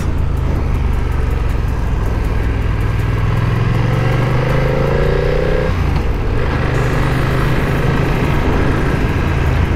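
Motorcycle riding along a road, its engine a steady mid-pitched drone with wind rush throughout, pitch rising briefly as it accelerates before settling back to a constant cruise.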